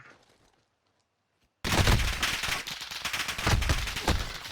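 A sudden loud burst of gunfire in a war video game after a quiet stretch, dense sharp reports continuing under a voice.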